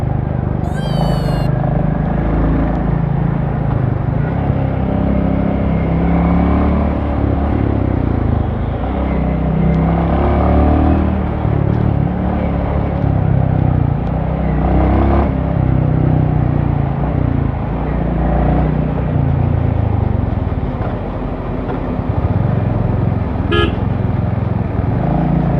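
A Royal Enfield Reborn motorcycle ridden through urban traffic, giving a loud, steady engine drone with wind and road noise throughout, a brief high squeal near the start and a faint horn-like toot later.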